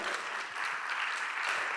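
Hall audience at a business speech event bursts into applause, a continuous, fairly distant patter of many hands clapping with no voices over it.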